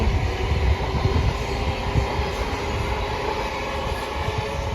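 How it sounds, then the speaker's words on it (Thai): A train rolls past close by with a loud, continuous rumble and rattling wheels that fade slightly toward the end, with no voices. "โอ้ยรถไฟไปอีกแล้ว"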